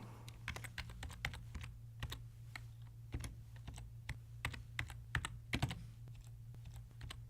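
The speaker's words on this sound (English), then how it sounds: "So I'll type the date." Quick, irregular key taps as a date is typed on a computer keyboard, close and fairly quiet over a steady low hum.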